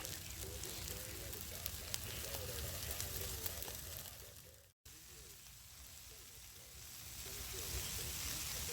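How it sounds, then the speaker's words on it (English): Bone-in porterhouse steaks sizzle on a campfire grill, a steady close frying hiss with crackling spits throughout, briefly cut out for a moment midway before resuming. "so I just put the porterhouses on, cook them on there for a few minutes"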